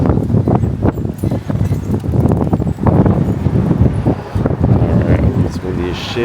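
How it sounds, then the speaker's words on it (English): Gusty wind buffets the microphone with a constant low rumble while someone talks over it outdoors. "it's windy as shit"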